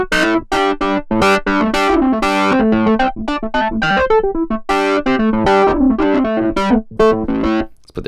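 Clavinet chords played through a Keeley Rotary pedal's swirling rotary speaker effect with gritty distortion, loud and rhythmic, with choppy stabs and sustained notes.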